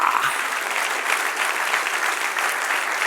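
Steady, dense applause from a large church congregation, loud and continuous throughout with no voices standing out.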